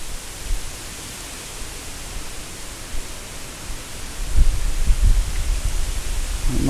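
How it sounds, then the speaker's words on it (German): Steady outdoor wind rushes and buffets the microphone in open countryside, a continuous broad hiss with low rumbling gusts that grow stronger toward the end, with no talking. "Jetzt geht hier aber der Wind."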